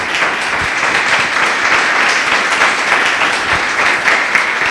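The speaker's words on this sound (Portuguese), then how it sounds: "Louve ao Senhor com suas palmas" A church congregation claps in praise, a steady loud wash of many hands sustained evenly throughout.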